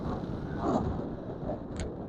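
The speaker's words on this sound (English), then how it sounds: "the wind's blowing like this thing is one giant sail" Steady wind buffets a parked step van in winter, a continuous low rushing roar with gusty swells and no talk.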